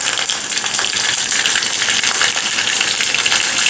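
Green chillies hit hot oil already crackling with mustard seeds in a tempering for rice dhokla. A loud, close, steady sizzle hisses and spits throughout, with no talking.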